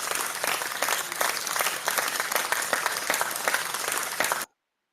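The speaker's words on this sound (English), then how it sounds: "I'll give you a round of applause for the first time coming to the speaker" Audience applauds a speaker, steady dense clapping from a crowd at moderate level that cuts off abruptly near the end.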